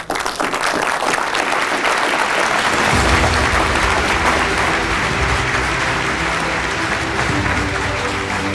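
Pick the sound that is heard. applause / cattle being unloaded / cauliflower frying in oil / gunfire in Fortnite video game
applause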